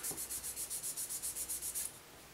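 An abrasive hobby file is worked over a plastic model kit part in about a dozen quick, even back-and-forth rasping strokes, faint but close, before it stops, with no talking.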